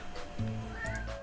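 A cat in the video game The Sims meows twice in quick succession, clear and close, with soft background tones around it.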